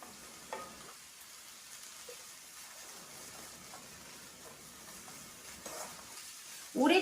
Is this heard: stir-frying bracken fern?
yes